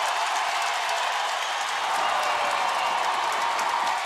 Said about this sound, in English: Listen to this crowd, it's crazy